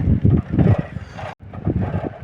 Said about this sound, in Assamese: পুৰা বতাহ মাৰছি